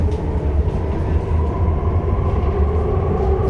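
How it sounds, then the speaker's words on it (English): An Elizabeth line train bound for Heathrow Terminal 5 rumbles along at speed, with a steady, loud low-frequency roar and faint rhythmic rail clatter throughout, heard from inside the carriage. "This is the train to Heathrow Terminal 5."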